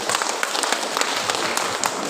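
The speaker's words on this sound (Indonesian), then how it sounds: "Tepuk tangan kawan." Participants at a teachers' education seminar clapping together, a loud, dense burst of applause with fast overlapping claps, close and continuous for a couple of seconds.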